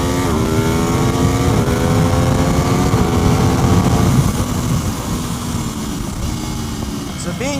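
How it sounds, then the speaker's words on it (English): An Aprilia RSV4 R V4 motorcycle engine roars on a race track, loud and sustained with rising, shifting engine tones that ease off toward the end. "the V4 just sounds so amazing"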